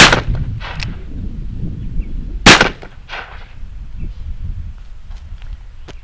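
An 1851 Navy black-powder revolver fired at a clay target outdoors: a loud sharp shot opens, followed by a second strong report mid-clip and fainter impacts and rustling afterward.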